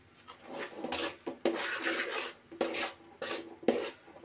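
Flour being stirred into semolina cooking in a pot, close scraping and rasping strokes of a spoon against the pot in an uneven rhythm of bursts with short gaps.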